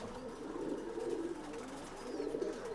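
Old-bloodline pigeons in Bangalore give a low, steady cooing that rolls on continuously, soft and close, with no talking over it.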